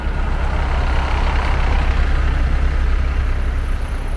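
Heavy buses idle at the platforms of Asuncion's bus terminal in Paraguay, a loud, steady low diesel rumble that fills the scene without pause, with no voices over it.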